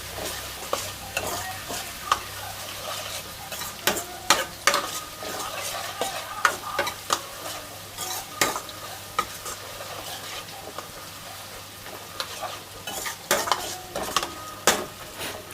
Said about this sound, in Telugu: ఉల్లిపాయ వేసి మస్తు ఫ్రై చేస్తాను.